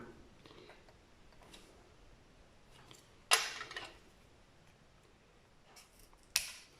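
Scissors cut through a plastic drinking straw in two crisp, isolated snips a few seconds apart, with faint handling rustles in an otherwise quiet room.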